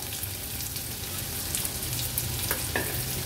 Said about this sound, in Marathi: हा एक मीडियम साईजचा कांदा आहे, हा आपण फोडणीला घालूया।